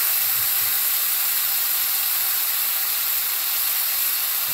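Marinated peri peri chicken steak sizzling on a grill, a dense, even, loud hiss of frying that holds steady throughout without pauses.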